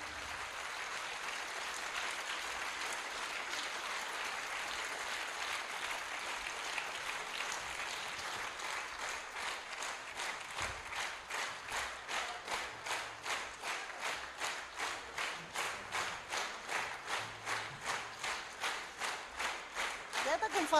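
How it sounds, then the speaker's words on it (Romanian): A crowd at an international music festival in Cahul, Moldova, applauds for a young performer; loose clapping under a speaking voice gradually settles into steady, rhythmic unison claps that grow louder toward the end. "Haideți să o aplaudăm, pentru că în curând va reprezenta Republica Moldova cu brio în lume."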